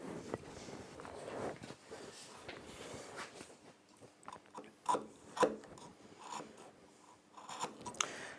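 Hand saw rasping on wood held in a bench vise while cutting a slight undercut for a corner half lap joint, soft uneven scraping strokes, faint and close, with light handling noise.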